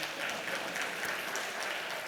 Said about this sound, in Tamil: கைத்தட்டுப்பா.